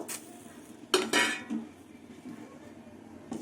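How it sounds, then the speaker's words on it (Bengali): Dry lentils going into a wok on a gas stove, a few sharp metallic clatters and scrapes in short bursts with quieter pauses between, close by and no talking. "গ্যাস ধরিয়ে কড়াই বসিয়ে দিয়েছি এবার ডাল দিয়ে দেবো"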